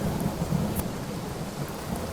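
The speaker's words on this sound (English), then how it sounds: "this is some of the most misty rain I've ever experienced." Steady rain hiss with low rumbling thunder in the Trainz train simulator game, a broad continuous wash of misty rainfall heard alone with no talking.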